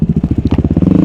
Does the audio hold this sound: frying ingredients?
no